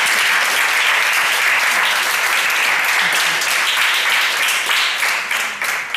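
Sustained applause from a children's football audience on an Italian TV programme, steady and dense throughout, tapering slightly near the end, with no one talking over it.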